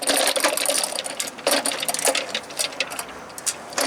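Dense metallic clicking and tinkling rattles continuously as a tool sweeps across a driveway picking up scattered small metal bits, close and busy.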